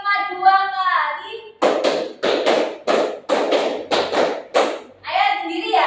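Group hand clapping in a counted classroom game, about eight crisp claps in pairs with a steady rhythm, bracketed by someone speaking before and after.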